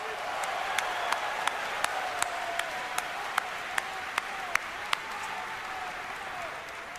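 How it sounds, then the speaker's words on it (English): An audience at the BlizzCon 2011 opening ceremony applauds with a steady wash of clapping, fairly distant, with some sharp individual claps standing out above the crowd. "Please give yourselves a round of applause."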